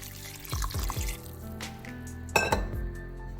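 Coconut milk is tipped into a pot of rice for a vegetable rice dish, with a few clinks of a cup or ladle against the pot and a soft splash of liquid, close and fairly quiet.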